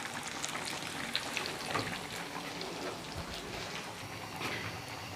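Potato chips for French fries frying in ghee in a kadai, a soft, steady bubbling crackle like rain, fairly quiet and even throughout with no voices.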